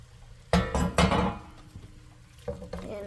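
A spoon scrapes and clanks in a pan as tomato paste and tomatoes are mixed for stuffed bell peppers, a few loud clattering bursts followed by quieter stirring.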